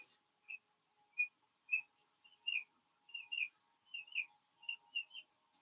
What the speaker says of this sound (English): listening to the sounds, the birds in the music